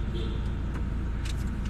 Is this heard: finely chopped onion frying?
no